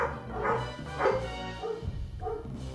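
Dog barks from the video game Suikoden III, a few yelping bow-wows in quick succession over game music.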